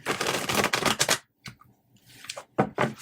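Tarot cards being shuffled by hand, a quick run of riffling bursts, then a pause, a couple of short slaps and another flurry, close and crisp.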